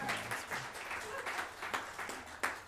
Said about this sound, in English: I'll accept applause, I don't mind.